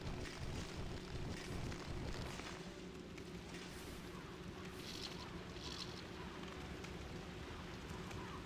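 Steady rain hissing and pattering as a continuous loud wash with low rumbling underneath, no voices over it.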